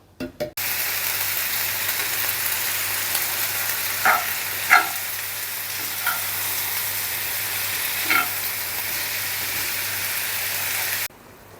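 Minced meat fries in a pan with a steady, close sizzle that runs the whole time, broken by a few soft stirring clicks and bumps. No voices.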